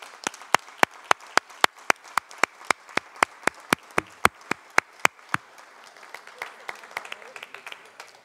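Applause at a Shawinigan city council meeting during a certificate presentation: a single steady, rhythmic clapping beat with sharp regular claps, fading after about five seconds into scattered softer claps and room noise.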